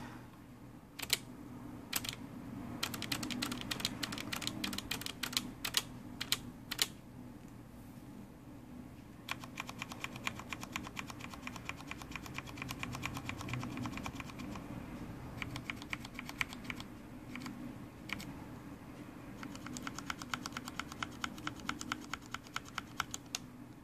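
Rapid clicky typing on a Corsair K65 RGB mechanical keyboard, bursts of keystrokes with short pauses and keys bottoming out, quiet and close with a faint room hum underneath.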